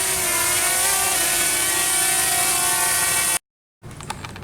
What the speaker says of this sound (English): So that was the demo of the drone.